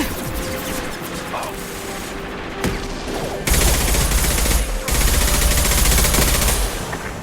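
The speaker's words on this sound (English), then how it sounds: "Firing a high-impact shot!" Heavy gunfire bursts from the video game Mass Effect 2, with a high-impact shot fired; loud sustained blasts kick in midway after a quieter stretch of combat, with a short break before the firing resumes.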